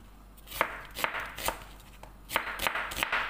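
Knife slicing onion thinly on a cutting board, a run of sharp, close chopping strokes in an uneven rhythm with a short pause midway.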